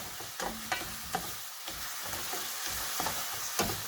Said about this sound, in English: You have to keep on stirring it constantly, and you have to cook onion till they start getting translucent